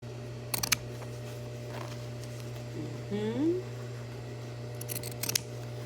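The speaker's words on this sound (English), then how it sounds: "Now I'm going to take my pinking shears and cut away the excess." Pinking shears chop through excess fabric during a belt loop repair, giving a few crisp snips close by with pauses between cuts. A brief rubbing or squeak comes in the middle.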